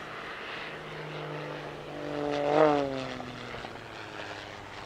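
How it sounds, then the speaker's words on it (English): An Edge 540 aerobatic propeller plane snaps abruptly to the vertical at an airshow, its engine note climbing to a sharp, rising whine that peaks briefly and then falls away, heard at a distance. "A very abrupt, high alpha snap to the vertical, the Edge 540 version of a Cobra."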